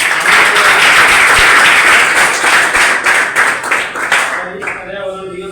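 A crowd at a World Environment Day gathering claps loudly and steadily, the applause thinning into scattered claps and fading out near the end.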